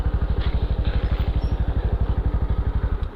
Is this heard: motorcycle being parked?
yes